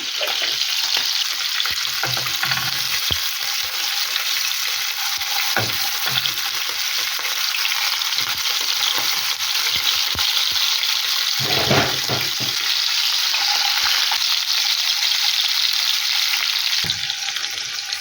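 Constant loud sizzle of pork ribs frying in a pan, with a few clanks and stirring scrapes breaking through; no talking.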